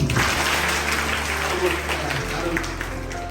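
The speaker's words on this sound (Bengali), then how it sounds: "আবার একটা তালি ওদের জন্য।" Children at an event applaud together in a sustained burst of clapping, with a voice speaking briefly over it.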